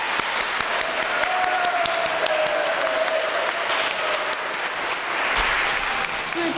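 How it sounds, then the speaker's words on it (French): Applause from an audience at an anniversary celebration for a singer, a steady wash of many hands clapping throughout, with a faint voice briefly heard beneath it. "je demande encore une fois une main d'applaudissement pour notre"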